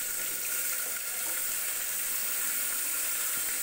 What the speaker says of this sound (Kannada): ಇವಾಗ ನಾವು ಒಂದು ಕುಕ್ಕರ್ಗೆ ಈ ವೆಜಿಟೇಬಲ್ಸ್ನೆಲ್ಲ ಫ್ರೈ ಮಾಡ್ಕೊಳ್ಳೋಣ